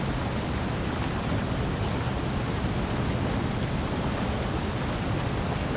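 Roaring waterfall in a dinosaur video game, a steady, loud broadband rush of falling water that holds constant throughout with no breaks.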